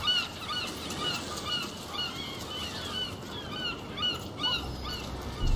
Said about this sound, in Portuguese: os gaivotões enchem o ar com grasnados desenfreados